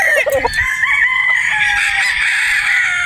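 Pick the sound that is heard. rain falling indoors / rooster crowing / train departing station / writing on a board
rooster crowing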